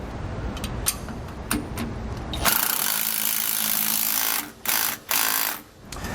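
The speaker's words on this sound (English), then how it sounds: "to tighten up the bolts that are holding our steering stabilizer to the brackets" A power tool drives and tightens bolts holding a Roadmaster Reflex steering stabilizer to its brackets on a 2018 Forest River Georgetown motorhome, giving a steady loud mechanical whir with brief rattling bursts that start and stop near the end.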